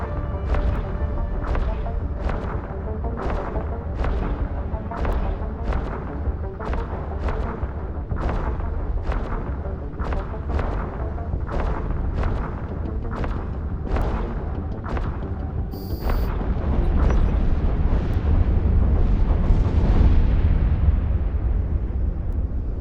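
Combat in the EVE space game as weapons pound the Seeker ship until it is destroyed: a loud, regular barrage of sharp blasts about one per second, then a heavier, denser rumbling explosion near the end, with no talking.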